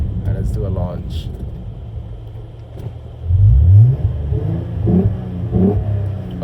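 Lexus IS250 fitted with upgraded Megan Racing motor mounts launches hard, a short deep engine rev swelling up partway through after a stretch of talking, with voices over the low rumble.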